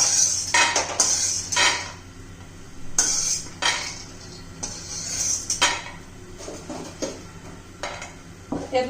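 Metal spoon scrapes and clinks against a pan as roasted peanuts are scooped out, in bursts of scooping with short pauses between, fairly close and with no talking.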